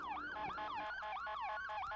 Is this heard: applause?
no